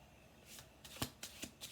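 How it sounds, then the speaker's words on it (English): Tarot cards being shuffled in several quick riffle bursts, each a short crisp flutter of card stock, close and quiet with no voice. "We're going to do 2 more shuffles."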